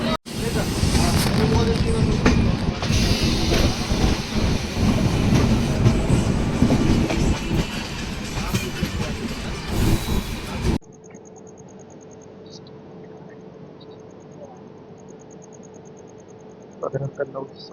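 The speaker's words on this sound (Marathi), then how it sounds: "लगेच ट्रेन निघेल आपली इथून" A Janshatabdi Express train rumbles and clatters loudly as it pulls away from the station, wheels clacking on the rails, then the noise cuts to a quieter chair-car interior hum.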